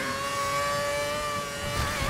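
Racing car engine from the F1 2011 video game at the Belgium circuit, a steady high-pitched whine held near and loud with the wheels spinning, no talk over it.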